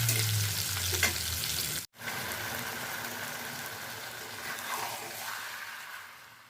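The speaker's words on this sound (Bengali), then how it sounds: "আলুটাকে ভেজে নিচ্ছি ভালো করে।" Potatoes fry in a pan for mutton curry, giving a steady close sizzle broken by a brief stir. A moment of near silence follows before the frying resumes and gradually quiets.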